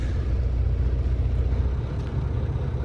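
A big truck engine runs steadily just after starting, with a loud, constant low rumble and no talk over it.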